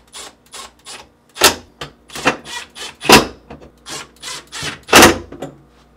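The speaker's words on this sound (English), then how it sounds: "Then, reinstall the screws." Screws are driven back in while a GE refrigerator's fresh food section is reassembled during a defrost heater replacement, a series of close, sharp clicks and brief ratcheting bursts in an irregular rhythm with no talk.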